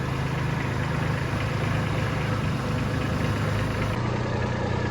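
A Kubota B2601 compact tractor with a new canopy drives in hot Arizona weather, its diesel engine giving a steady, loud, rumbling drone with constant vibration and no voices.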